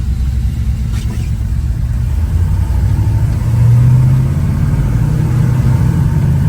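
A 1969 Chevrolet K10 pickup truck engine rumbles loudly and steadily, its pitch shifting as it works from first to second to third gear, with no talking.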